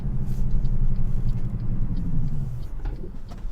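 A heavy truck's Jake brake in American Truck Simulator drones with a deep, pulsing engine rumble that holds steady and then drops in pitch and fades after about two and a half seconds.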